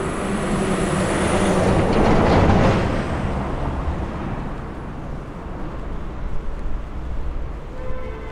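A train passes on a downtown Charlotte street, a broad rumble that swells to a peak around two seconds and then fades into steady city noise, with a faint high tone near the end.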